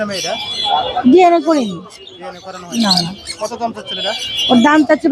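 An African grey parrot, about a year old, calls with squawks and warbling whistles at the busy Mirpur bird market, its calls broken up and mixed with nearby talking voices throughout.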